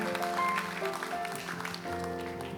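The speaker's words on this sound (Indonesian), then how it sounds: "Berikan tepuk tangan sekali lagi buat Allah." Church congregation clapping during a service, steady applause blended with sustained music tones from instruments in the background.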